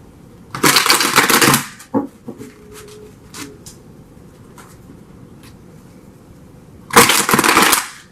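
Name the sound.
shuffling tarot cards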